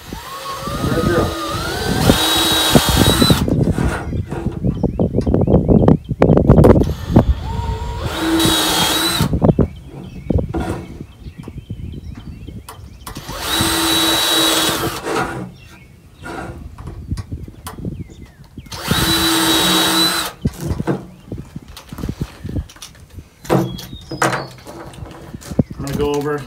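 A power drill boring holes in wood for a birdhouse, several separate whining bursts of a few seconds each with quieter pauses between, a person speaking close by in the gaps.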